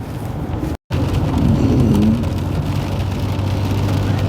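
Steady rain hisses and patters outside a moving car on a stormy December day, a broad, constant wash with a brief dropout early on and a low road rumble beneath.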